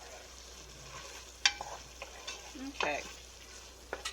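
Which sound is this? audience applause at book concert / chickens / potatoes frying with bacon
potatoes frying with bacon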